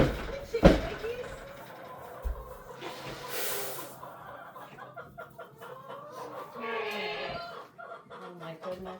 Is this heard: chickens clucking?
yes